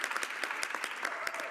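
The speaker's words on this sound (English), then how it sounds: "Feel free to interrupt my remarks with your applause at any time" Members of the House of Commons applaud throughout in a steady, dense patter of clapping, with occasional sharper desk-thumping accents, moderately distant.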